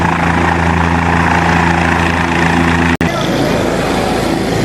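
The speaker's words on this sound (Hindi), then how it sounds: "देखिए हेलीकॉप्टर आ गया है।" A police helicopter arriving: steady rotor thrum and turbine whine fill the air, loud and close, with a brief dropout partway through.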